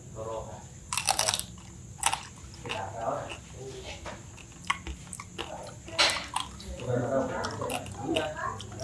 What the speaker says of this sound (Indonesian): Kalau kita berbicara babi guling, ini tes kriuk dulu.